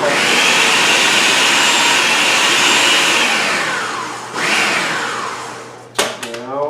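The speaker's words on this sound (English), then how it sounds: "And it goes into the food processor. I'm going to power it on." A food processor chops cubed onions with a loud, close, continuous whirring roar that runs for several seconds, then winds down and stops with a couple of short bursts.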